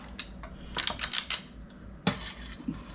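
A teaspoon clinks and scrapes against a bowl while crust mixture is crumbled onto jam-filled boysenberry crumble cookies, giving a few quiet, scattered metallic taps and scrapes up close, with no talking.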